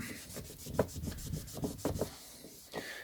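Rubbing and scrubbing on an old James Bond book by Ian Fleming, a close series of soft, dry strokes in uneven bursts, cleaning a stain off the back cover without any talk.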